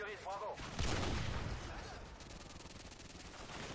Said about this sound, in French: Mais je sais pas d'où on me tirait dessus.